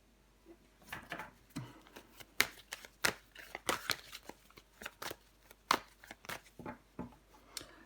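Tarot cards are shuffled, flipped and laid down on a table in a series of quick, crisp rustles and slaps, close and irregular with short pauses between.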